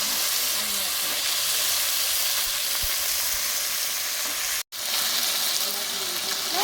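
Potato and taro pieces frying in hot oil spiced with cumin and onion, a loud, steady close sizzle throughout, broken by one brief gap.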